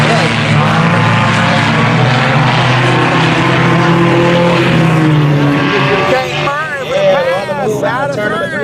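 IMCA sport compact race cars roar around Salina Speedway, a loud, continuous engine drone with rising and falling passes under an excited announcer calling the race.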